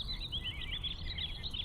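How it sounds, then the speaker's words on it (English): Birds chirp in a video game soundscape, a busy run of small, high tweets over a low ambient rumble, faint and continuous. "Oh, they're chirping away. Look at the bird sounds."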